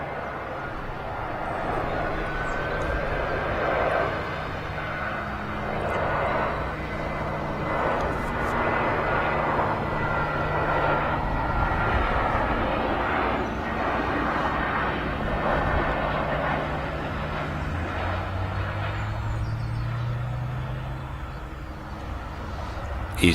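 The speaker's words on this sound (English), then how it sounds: "EasyJet A320 Neo just touching down." EasyJet Airbus A320neo airliner touching down at Manchester Airport, a loud sustained jet engine roar with rushing broadband noise that swells and then eases as the aircraft rolls out, heard from a distance outdoors.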